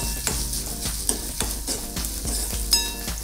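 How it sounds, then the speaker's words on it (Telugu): Meal maker soy chunks fry in hot oil, a soft sizzle under repeated scraping stirs of a spoon in the pan, knocking in a quick uneven rhythm. "మిల్ మేకర్ పచ్చివాసన పోయే వరకు కొంచెం ఫ్రై చేసుకోవాలి"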